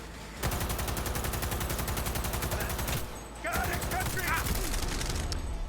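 Rapid automatic gunfire in Cyberpunk 2077, a dense sustained burst with a brief pause near the middle before firing resumes, loud and close, with game effects layered over it.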